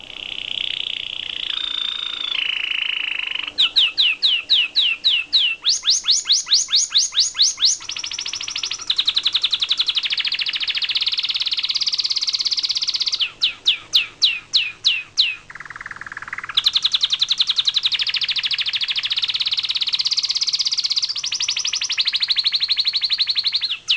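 A domestic canary sings alone in bright, fast trills and rapid repeated chirps, with sustained warbling phrases broken by quick staccato bursts, close and loud.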